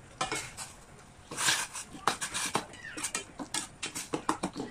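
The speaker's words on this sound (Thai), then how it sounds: "พี่เบาก็จะมารวนหมูก่อนนะ ใส่น้ำลงไปสักหน่อยนะแล้วก็เอาหมูของเราใส่ลงไปเลย" Pork is stir-fried with a splash of water in a pan. A spatula clatters and scrapes against the metal in quick irregular knocks over a faint sizzle, heard close.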